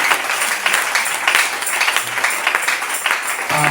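A church congregation claps and acclaims Jesus together, a dense, loud wash of applause that swells and holds for several seconds with brief pulses of stronger clapping.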